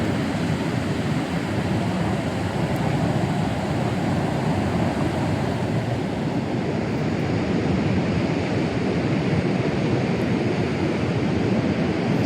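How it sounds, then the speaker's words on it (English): Powerful Pacific surf roars steadily on the beach at Cape Kiwanda near Pacific City, Oregon, a continuous loud wash of breaking waves mixed with wind rumble, with no talk over it. "The waves are roaring today."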